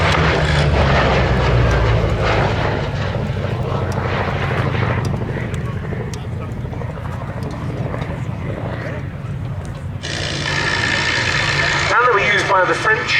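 A Grumman Bearcat flies at the Duxford Battle of Britain air show. The piston engine drones loudly and continuously, with a rising whine near the end and crowd and outdoor noise mixed in.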